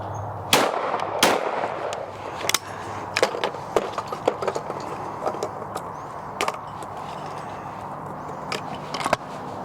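Browning B27 over-and-under shotgun fired outdoors at clay targets, several sharp reports spaced a second or more apart, a couple loud and close with others fainter, over a steady background hum.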